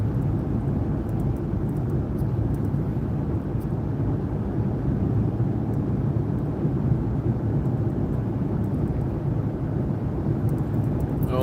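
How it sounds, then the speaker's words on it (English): Thunder from an approaching bad storm makes a steady low rumble that fills the whole stretch, broad and unbroken, with no talking. "you got a bad storm coming through, Rhonda."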